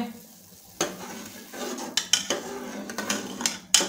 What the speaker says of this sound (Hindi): ये डालेंगे थोड़ा थोड़ा करके और मिक्स करेंगे।